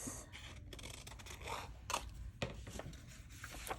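Scissors snipping the corners of paper for small craft pockets and tucks, a few short close crisp cuts and scrapes with no voice.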